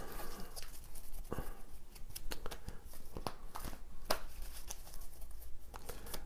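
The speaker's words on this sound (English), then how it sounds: "So let's shuffle the cards." A deck of cards being shuffled by hand during a live morning show, with crisp riffling snaps and papery rustles repeating close up at a steady, fairly quiet level and no talking.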